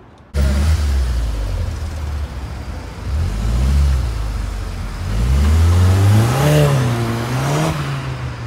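A Volkswagen Golf 6R's engine revving up and down in several swelling, rising pulls, loud and near, its pitch climbing and falling repeatedly with no voices.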